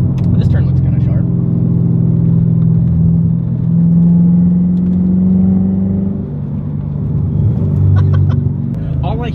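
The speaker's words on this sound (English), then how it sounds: "All I hear right now is the car going and gravel hitting" A car drives along a wet road with a steady engine rumble and whir, gravel faintly ticking against the underside, while a person talks over it throughout.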